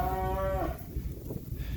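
One long, loud moo from local New Mexico cattle in a receiving barn, holding steady before breaking off, followed by a low barn rumble and faint animal shuffling.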